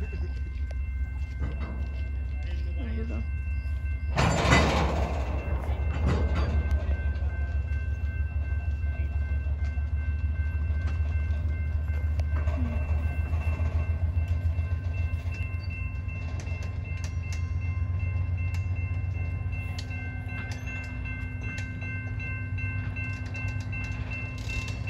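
Norfolk Southern locomotive NS 9949 pulls out of Nixon Yard toward Augusta Yard, its engine a steady low diesel rumble with a sharp horn-like burst early on, faint clanks and brief talk nearby.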